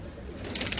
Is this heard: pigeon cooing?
yes